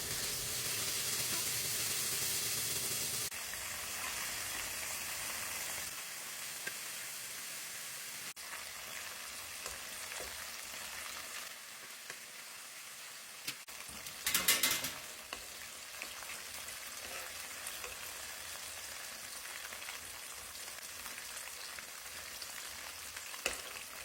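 Chicken livers fry in hot grease with a constant crackling sizzle and hiss, loudest at first and then settling, with a burst of sharper popping partway through and no talking.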